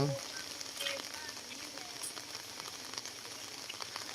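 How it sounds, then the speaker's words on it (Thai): Rain falling steadily outside a quiet home in Thailand, a soft continuous hiss and patter of drops that holds at an even, moderate level throughout. "คือฝนตกนะฮะ"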